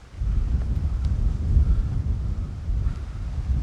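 Strong wind buffets a microphone outdoors in open countryside in Essex, a steady low roaring rumble with gusting surges throughout, loud and close, with no voice over it.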